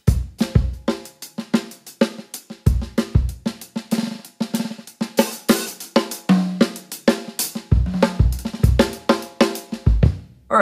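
A drum kit plays a linear funk phrase, crisp separated hits of kick, snare and hi-hat falling in a busy syncopated pattern, close and dry, with no talking.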